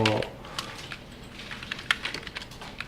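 A brief burst of typing on a computer keyboard while entering Python input code, with scattered close key clicks after a short voice at the start.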